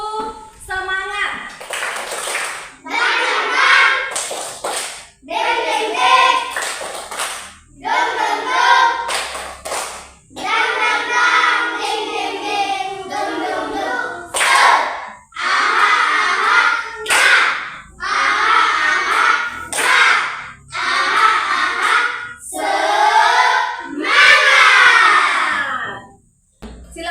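Schoolchildren in a classroom perform a rhythmic ice-breaker clap routine, bursts of patterned group clapping alternating with chanted call-and-response voices, lively and close, in repeated sections with short pauses between.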